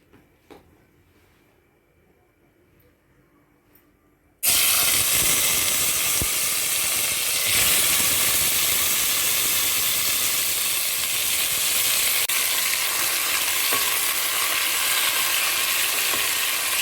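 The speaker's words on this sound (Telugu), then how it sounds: "ప్యాన్లో మళ్ళీ టేబుల్ స్పూన్ నూనె వేసుకోండి వేసుకుని టమాటాలు వేసుకోవాలన్నమాట" Tomatoes drop into hot oil in a pan and burst into a loud, sudden sizzle after a few quiet seconds, then keep frying with a steady hiss and occasional stirring.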